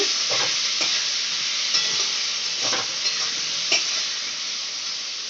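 Spices and asafoetida fry in hot oil for dhokar dalna, a loud, steady sizzle with occasional scraping strokes of a stirring spoon, close and without talk.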